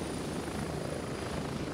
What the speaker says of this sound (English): I don't think this is our helicopter.